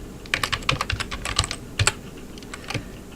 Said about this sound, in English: So you basically type in SCP, then the path